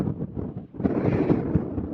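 Gusty wind buffets the microphone high on Snowdon's Pyg Track, a low rumbling roar that dips briefly and then surges louder and steadier.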